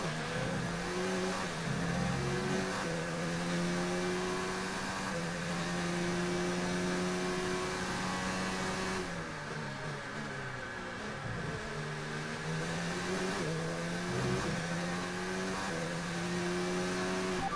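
Formula One cars accelerate around the Bahrain circuit in the F1 2019 racing game, engines rising and falling in pitch through gear changes, a steady high whine that stays close and loud throughout with no speech.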